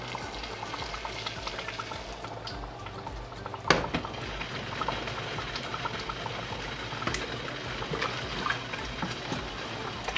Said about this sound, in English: I'm gonna put the water a little bit.